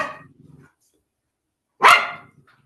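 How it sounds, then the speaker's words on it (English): A dog barks indoors, one loud, close, sharp bark following a brief softer growl or huff, with silence between, during a relaxed home chat. "My dog has something else to say about that."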